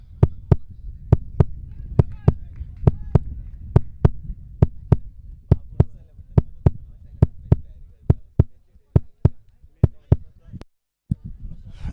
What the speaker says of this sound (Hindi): दोनों कप्तानों की दिल की धड़कन बहुत जोरों के साथ आप सुन सकते हैं माइक पर